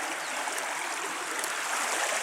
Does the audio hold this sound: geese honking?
no